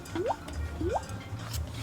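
A gurgle pot burbles as water is poured into it, giving two quick rising glugs about two thirds of a second apart, close and clear over a faint low background hum.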